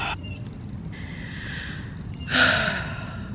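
Wim Hof style breathing: after a held breath, a rush of air is let go in one strong exhale near the mic, with softer breath sounds before it and no talking.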